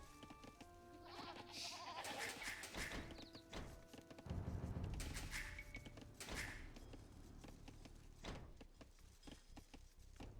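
Sheep bleat repeatedly in a medieval strategy video game, several overlapping calls mixed with game sound effects and a clattering, busy background.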